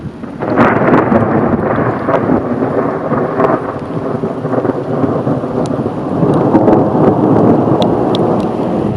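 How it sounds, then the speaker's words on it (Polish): Thunderstorm with heavy rain over hilly ground in the Lublin region, a loud continuous downpour with rumbling thunder rolling throughout, steady and close. "Kurde, zaczyna lać. Kurde. Zaraz może strzelać tu obok."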